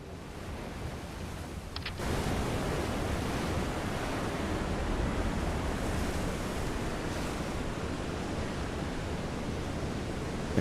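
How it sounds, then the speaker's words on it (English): Steady ocean waves and surf wash continuously in the Silent Hunter 3 submarine game, a dense broadband roar with wind mixed in, loud and constant with no talking. "because of the noise that is being generated by the waves and stuff"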